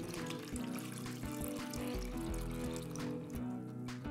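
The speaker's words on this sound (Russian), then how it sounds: "Теперь добавляем теплую воду с дрожжами." Warm water with yeast is poured into pancake batter made from flour, sugar and salt, giving a steady trickling pour close by over a faint tonal background hum, with no talking.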